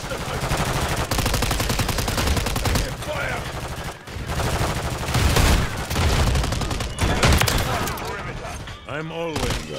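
Call of Duty gunfire rattles in dense automatic bursts and overlapping shots for nearly ten seconds, loud and continuous, with a short gap midway and a voice speaking over the shooting.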